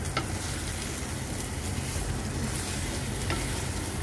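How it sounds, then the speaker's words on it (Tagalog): White bitter melon and egg stir-fry being gently stirred in a pan, a dense continuous sizzle with a couple of spatula scrapes and no voices. "Ayan, dahan-dahan po natin siyang haluin"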